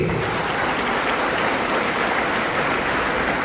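A crowd at a Marathi political rally honouring a former MLA gives a steady, dense wash of clapping that holds evenly for the whole stretch, loud and unbroken with no voice over it.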